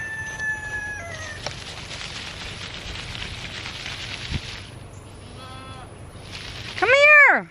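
Goats on a farm give a few bleats among birdsong and rooster-like calls. The loudest, wavering call comes at the very end, over a steady outdoor background.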